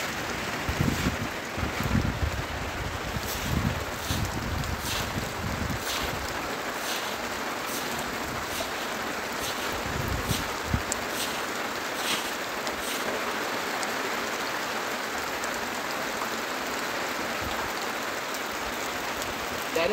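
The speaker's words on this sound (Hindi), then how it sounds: "बारिश तो अभी भी हो रहा है, ज़्यादा नहीं थोड़ा थोड़ा हो रहा है," Light rain falls steadily over a village, a soft continuous hiss with occasional drip and patter sounds near the start, fairly quiet and even throughout.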